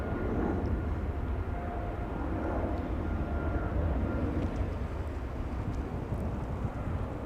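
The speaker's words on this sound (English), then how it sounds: "that's China Airways 777-300 from Taipei" A China Airlines Boeing 777-300 from Taipei at Los Angeles International Airport, a faint, steady, distant jet rumble with wind noise and no talk.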